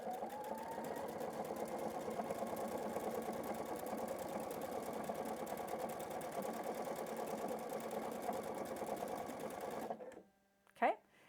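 A PFAFF creative icon 2 sewing machine stitches decorative ribbon onto fabric, its needle running in a fast, steady mechanical whir for about ten seconds before stopping, followed by a brief soft clunk near the end.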